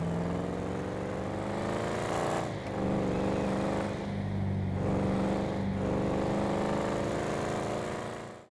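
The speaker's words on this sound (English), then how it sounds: "I love this low grunty V8 sound where no matter how much you're inputting on the throttle, it sounds tame and relaxed and low and loud" Low, grunty V8 engine of the Gnut car in GTA Online, a steady loud rumble held for several seconds with a brief dip partway through, relaxed and tame-sounding.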